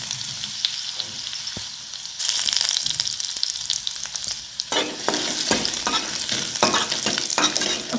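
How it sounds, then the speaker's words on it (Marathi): Crushed garlic frying in oil in a kadhai, a steady sizzle that jumps louder partway through and grows busier, with scraping stirs and clicks of a ladle against the pan. "तेलामध्ये आपल्याला बारीक असं लसूण ठेचून घेतलेलं आहे ते टाकायचं आहे"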